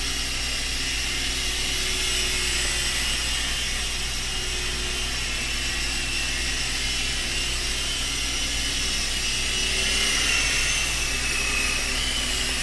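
An E-flite Blade mCX Tandem Rescue toy helicopter flies indoors, its small rotors giving a continuous buzzing whir that holds steady throughout, fairly close.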